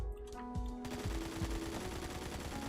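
A stock AKM rifle firing rapid full-auto bursts in the Phantom Forces video game, sharp repeated cracks in a quick rhythm after brief music, loud and alone.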